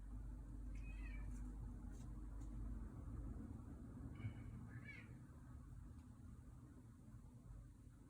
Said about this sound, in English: So my cat is curious what I'm doing, so she she's going to come and inquire.